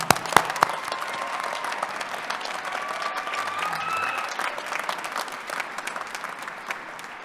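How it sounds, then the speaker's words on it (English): A large crowd at a university graduation ceremony applauds the graduates, sustained clapping with a few loud close claps at the start, a faint whistle or cheer partway through. "let's have a big round of initial applause among many for our graduates today."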